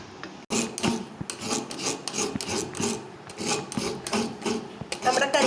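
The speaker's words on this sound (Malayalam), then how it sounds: "നമ്മുടെ കറിക്ക് ആവശ്യമായ തേങ്ങ ചിരണ്ടി എടുക്കുവാണ്." Fresh coconut is scraped on a grater for a home-style curry, making close, rhythmic rasping strokes about twice a second that repeat steadily without any talking.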